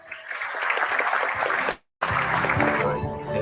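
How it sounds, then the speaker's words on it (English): Several people clap steadily, a dense patter of applause that breaks off briefly with a short silence, then resumes at the same level. "that deserves a hand clap, or 2, or 3,"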